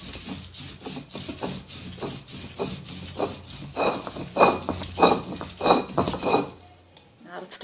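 Spices being ground for fish curry on a traditional ammi grinding stone, with steady rhythmic scraping and rubbing strokes of stone on stone, about a dozen passes, close and moderately loud, stopping near the end.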